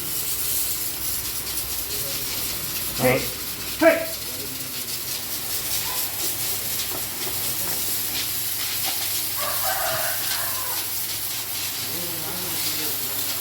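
A pressure washer pump blasts water to clean a cow shed, giving a steady broad hiss that runs throughout, with a couple of brief louder bursts and faint voices in the background.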